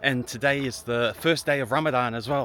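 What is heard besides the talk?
None of the usual background noises is heard.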